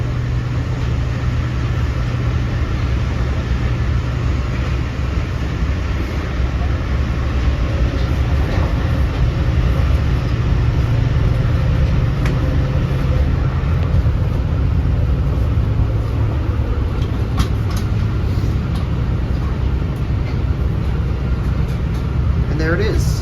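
Long Island Rail Road westbound train passing Wyandanch station, a steady loud rumble and rail roar sustained throughout, with low-frequency drone and faint wheel squeal, heard close by.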